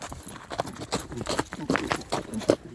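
Horse hooves clip-clop in a quick, uneven rhythm, fairly close, from a newborn foal on a farm in winter, with some background voices mixed in.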